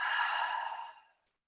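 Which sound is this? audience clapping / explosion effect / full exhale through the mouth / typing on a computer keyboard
full exhale through the mouth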